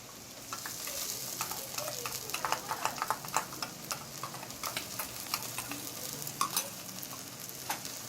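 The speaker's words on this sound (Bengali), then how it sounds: "আমি একটু হলুদ দিয়ে দিলাম" Ginger and turmeric sizzle softly in a pan for a Bengali raw jackfruit and prawn curry, with a steady low fry broken by repeated scraping stirs and clicks of a spoon, no voices.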